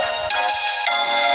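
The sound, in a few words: phone ringtone ringing during a live stream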